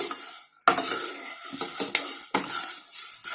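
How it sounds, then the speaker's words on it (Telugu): Spices frying in a pan for masala vangi bath are stirred with a metal utensil, producing close scraping and clinking strokes over a soft sizzle. "కలుపుతూ ఉండండి, మాడనిచ్చుకోకుండా"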